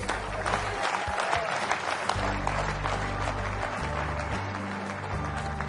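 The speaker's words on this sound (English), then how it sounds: "Clap loud." Loud, sustained applause from a large audience at a leadership talk, a dense roar of clapping with a low musical hum underneath.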